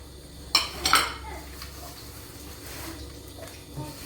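Spiced dough of arhar lentil and flour being mixed in a bowl, with a few sharp clinks of a spoon against the dish early on followed by soft, quiet stirring and scraping.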